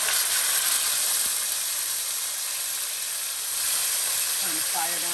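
A whole chicken lowered into hot oil gives a loud, steady hiss and sizzle close by, holding evenly for several seconds.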